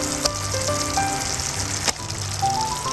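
Pabda fish sizzling steadily as it fries in spiced oil on a flat pan, a continuous close crackle with brief sharper spits, no voices.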